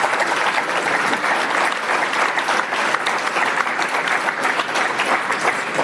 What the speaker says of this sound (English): I think we should clap them.